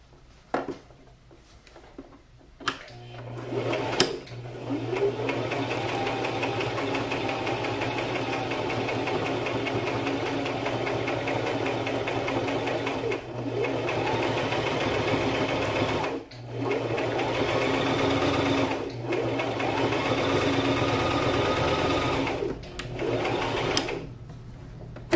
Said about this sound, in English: I'm gonna sew about a quarter inch from the edge